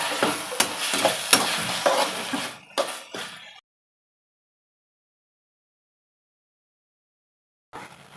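Mushroom manchurian is stir-fried with tomato sauce, a close sizzle with repeated scraping spatula strokes and a few clinks that stops abruptly after about three and a half seconds, followed by silence and a brief return of sound near the end.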